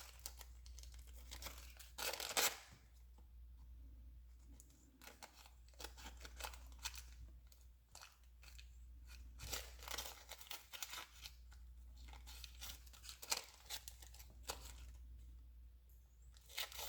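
Scissors trim cardboard collage paper in repeated snips and crinkles, faint and close, with soft rustling between cuts and no talking.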